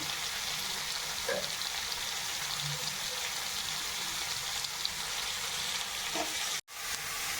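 Onions frying in a pan with salt give a continuous soft crackling sizzle, close and steady, with occasional light stirring sounds and no talking over it.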